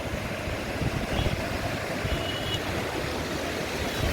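The flooded Tungabhadra river at Harihar rushes past with heavy force, a dense continuous roar of churning water close by, steady and broadband with no voices over it.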